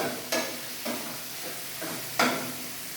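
Chicken stir-fried in a pan for vegetable egg fried rice, sizzling steadily while a utensil scrapes and tosses it in four distinct bursts, each a sharp swish over the constant frying hiss, with no voices.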